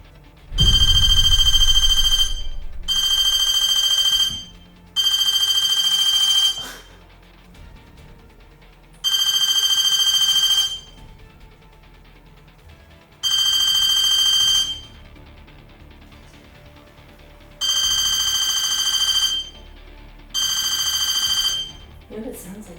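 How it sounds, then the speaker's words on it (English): An electronic telephone-style bell rings in seven bursts of about two seconds each, evenly spaced, loud and close, inside a cabin at night, with quiet stretches and faint movement between rings. "You know, it sounds like a phone."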